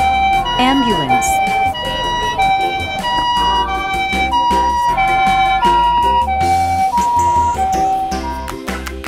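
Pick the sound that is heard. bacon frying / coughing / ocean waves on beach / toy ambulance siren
toy ambulance siren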